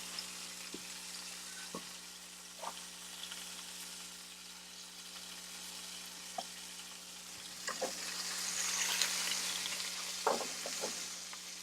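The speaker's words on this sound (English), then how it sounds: "Nice sear on that side." Goose breast searing in a pan, a soft, steady sizzle with scattered pops and crackles at close range and a slight swell of frying noise near the end, no talking.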